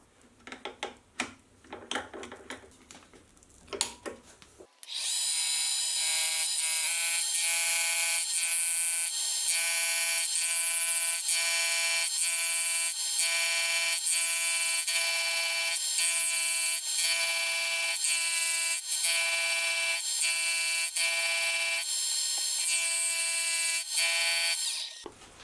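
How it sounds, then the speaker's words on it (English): Cheap chamfer tool cutting a 45 degree edge on wood for a small hand plane, a loud steady high-pitched whine that starts abruptly after a few seconds of lighter knocking and runs continuously. "Now, I haven't used this chamfer tool before."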